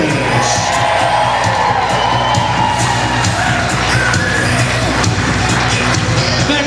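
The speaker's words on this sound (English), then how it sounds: "a big round of applause as we welcome the parents of the bride, Chris and Christy" A loud, sustained crowd of wedding reception guests cheers, whoops and yells to welcome the bride's parents, Chris and Christy, with a continuous roar that never lets up.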